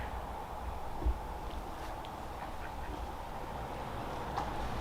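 Mallard ducks quack a few times at a distance beside Lake Chelan, faint short calls over a steady outdoor background hum.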